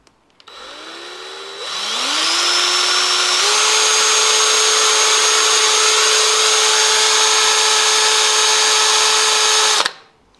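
A power drill drilling a pilot hole during a GSXR track bike build: the motor spins up in two steps into a loud, steady, high whine that holds for about eight seconds, then cuts off abruptly, close by.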